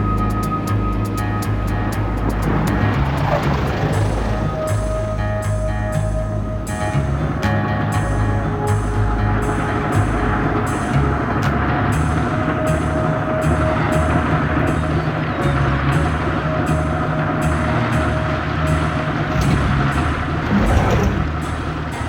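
A Corsair fighter plane comes in to land with gear and flaps down, its engine giving a steady, loud, close drone and rumble that holds across the whole stretch.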